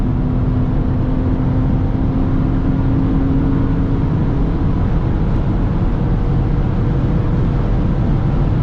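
BMW car accelerating hard through the gears past 6,000 RPM, a loud, continuous engine roar and whir that stays dense and steady from start to finish.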